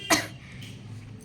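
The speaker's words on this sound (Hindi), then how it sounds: "खांसी आ रही है" A single short cough, close and fairly loud, from a woman who is ill with a fever, followed by quiet room tone.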